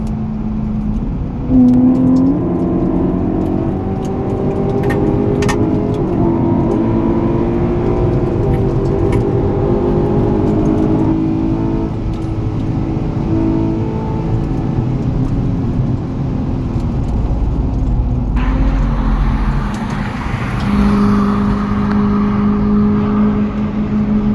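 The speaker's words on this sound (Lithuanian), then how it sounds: "Pasimėgaukit mano variklio garsu, kuris džiugino mane visą šitą dieną." A sports car engine revs and accelerates steadily on the Nemuno Žiedas race circuit during a time attack, pitch climbing through gear changes, loud and close throughout with no talking.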